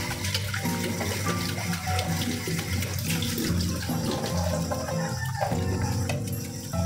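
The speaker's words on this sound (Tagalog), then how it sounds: "Maraming water tingnan natin." Tap water runs steadily and loudly into a sink, a continuous splashing gush with some clattering of items underneath, and no one speaks.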